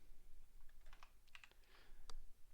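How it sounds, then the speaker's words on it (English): A handful of crisp clicks from keys being pressed on a computer keyboard, quick and irregular, heard up close and fairly quiet, with no talking. "press in my keyboard"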